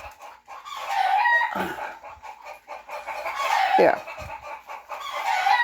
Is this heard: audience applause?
no